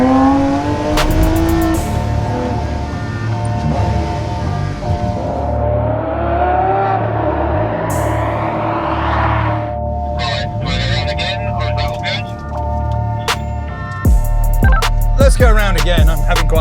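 Lamborghini Sian FKP 37 hybrid supercar heard from inside the carbon-fibre cabin, its engine droning and revving steadily throughout with rising pitch sweeps, loud and close, plus brief clicks and clatters.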